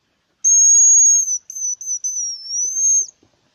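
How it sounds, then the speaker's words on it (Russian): A hazel grouse whistles in the taiga, heard across a river: one long thin high whistle followed by several shorter broken trills, clear and fairly loud against near silence, with a few soft clicks at the end. "И рябчик свистит."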